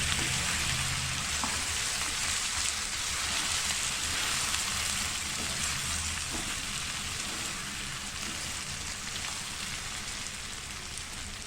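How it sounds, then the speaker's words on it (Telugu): Ridge gourd coated in chickpea flour fries in a pan with a steady, close sizzle like light rain, crackling evenly throughout with no talk. "కొంచెం సేపు ఇట్లా ఫ్రై లాగా చేసుకుందాం."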